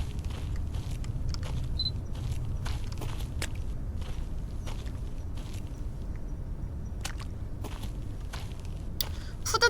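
Footsteps in the horror game Cursed Digicam, a steady run of soft scuffing steps over a continuous low rumble of ambient background, with no talking.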